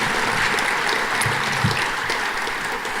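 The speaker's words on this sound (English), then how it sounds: "Round of applause for our gems of the community." Audience applause fills a theater during a community leadership awards program, a steady dense clapping from a large crowd that holds throughout and tapers slightly at the end.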